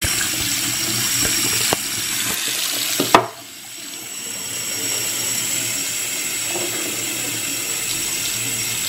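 Steady running water from a tap splashing into a sink while rinsing out a bottle, a continuous rushing hiss with a brief clunk midway, no voices.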